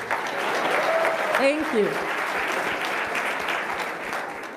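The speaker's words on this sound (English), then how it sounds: "So, yes, you can clap." Sustained audience applause fills a hall at a public gathering with young people, a dense steady clatter of many hands from start to finish, with a voice briefly speaking over it.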